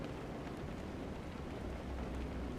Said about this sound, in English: I wish there was rain that wasn't always heavy rain.